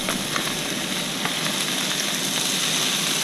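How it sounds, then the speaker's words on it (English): Carbonara ingredients sizzle in a hot pan with a constant crackling hiss and small pops, close and fairly loud, with no voices. "Okay, sizzling"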